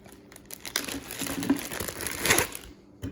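Close, loud crinkling of a plastic bag as a cable is pulled from it, from an S-Tech switch pod kit for a 2016 Jeep Wrangler, in bursts of rustling and crackling, busiest in the middle and then trailing off.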